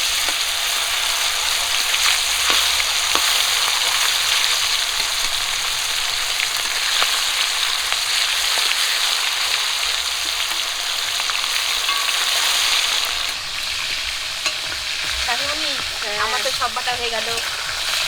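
Pieces of carp fry in hot oil with a steady, dense sizzle throughout, interrupted by occasional stirring clatter; toward the end a voice speaks briefly over the frying.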